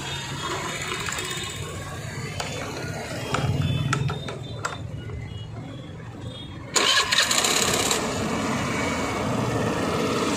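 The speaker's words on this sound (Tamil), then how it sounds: "இப்போ வந்து வண்டியை வந்து ஸ்டார்ட் பண்ணி பார்ப்போம்." A Suzuki Avenis BS6 scooter with starting trouble and slow-idle problems is cranked and started, with a starter whir, a louder catch after a few seconds, then a steady close idle hum.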